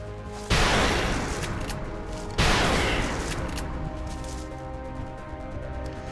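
Rapid-fire gunshots in the video game XCOM Long War: two heavy, booming blasts about two seconds apart, each with a long, fading reverberant tail over a steady background hum.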